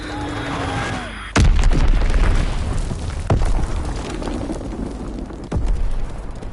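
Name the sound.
bomb explosion in Call of Duty WW2 video game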